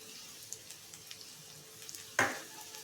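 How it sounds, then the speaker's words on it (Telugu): Raw banana pieces fry in an uncovered pan with a steady low sizzle and small crackles, then one sudden louder hiss burst partway through. "ఇలాగే చక్కగా మూత పెట్టకుండా ఫ్రై చేసుకోండి"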